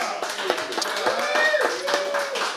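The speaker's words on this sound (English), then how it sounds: "So give Joe a nice round of applause" A small studio audience at a recovery talk show claps a short round of applause, quick and scattered. A voice speaks over it.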